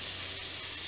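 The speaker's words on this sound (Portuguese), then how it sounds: "Eu vou pôr pra fritar aqui junto com o bacon" Sliced calabresa sausage and bacon fry together in a pan, giving a steady, close, continuous sizzle with no pauses.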